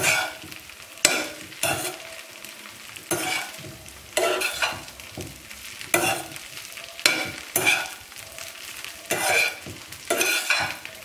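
Idli pieces tossed with oil in a pan, rhythmic bursts of scraping and rattling from the spoon against the pan roughly every second, over a low sizzle, close and without talk.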